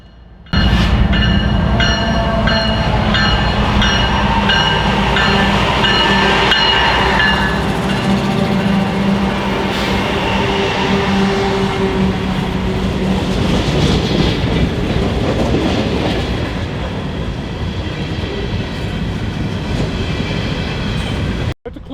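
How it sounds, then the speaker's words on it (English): A Norfolk Southern coal train rolls down the grade through Christiansburg at slow speed past track work, close and loud, with continuous rumbling, rhythmic clickety-clack of wheels over joints and faint wheel squeal, easing slightly toward the end. "this was the first train, a Norfolk Southern coal train descending the grade through Christiansburg"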